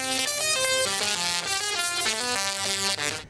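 A voice hums and buzzes a rapid sequence of musical notes, imitating the electric, insect-like music of a singing Tesla coil, continuous and fairly loud.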